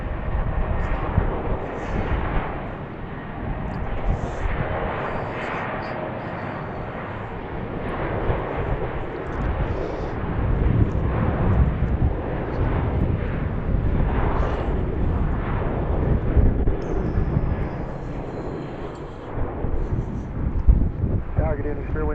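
A Southwest airliner departs from runway 15 right at BWI airport, a loud broad jet engine roar rising with wind buffeting the microphone, and speech is faintly audible underneath.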